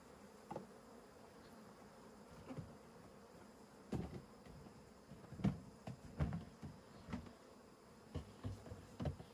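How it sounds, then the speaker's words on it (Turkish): Honeybees buzz around an opened hive during a summer honey harvest, a faint steady drone broken by louder bursts as individual bees fly close past, with no talk heard. "Arılar saldırıya geçmesin."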